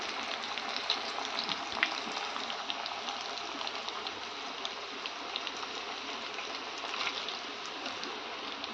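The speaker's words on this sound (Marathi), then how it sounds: "याप्रमाणे वड्या सगळ्या तळून घ्यायच्या आहेत." Coriander vadi, crisp Maharashtrian kothimbir fritters, frying in hot oil, a steady, dense crackling sizzle at moderate level running unbroken throughout with small pops, no voices.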